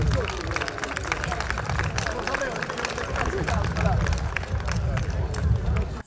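Audience applause at an awards ceremony in Termoli: continuous hall clapping that swells and holds for several seconds, with crowd murmur and voices underneath.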